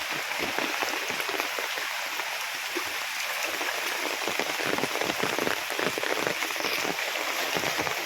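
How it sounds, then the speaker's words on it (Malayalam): Heavy rain pours steadily and loudly, a dense continuous patter on surfaces close by. "മഴ തന്നെ മഴ"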